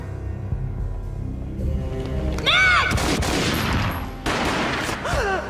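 Gunfire in a Max Payne video game cutscene: a quiet tonal stretch gives way to a loud, booming burst of shots with ringing, descending sweeps and echoing crashes, then a second blast near the end.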